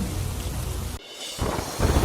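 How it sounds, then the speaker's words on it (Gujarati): Heavy rain pours down at the Pavagadh pilgrimage site in Gujarat during a monsoon storm, a loud dense roar of falling water broken by a thunder rumble midway, close and continuous with no voices. "યાત્રાધામ પાવાગઢમાં મુશળધાર વરસાદ"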